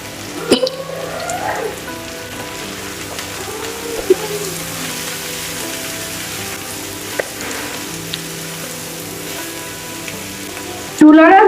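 Taro stolons frying in a pan for a home-style fish curry, a steady close sizzle that runs unbroken throughout with a few small clatters of utensils, and no talk.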